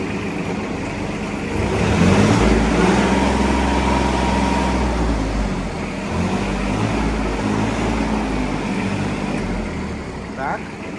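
A Yanmar KE-4 Japanese compact tractor runs while being driven in third gear in reverse. Its engine gives a close, steady low drone that swells slightly, and someone talks over it.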